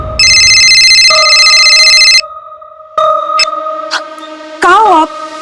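A phone rings with a loud electronic multi-tone trill for about two seconds, followed by sparse synthetic tones and warbling dramatic sound effects in a crime-drama setting.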